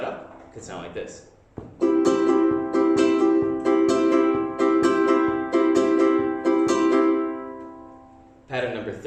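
A ukulele is strummed fast in a steady down-up pattern, bright chords ringing out rhythmically and close, with a brief spoken bit at the start and end.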